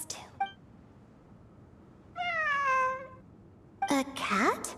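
A cat meows in the video game Genshin Impact, one clear drawn-out meow in the middle, with brief sharp game sounds before and after.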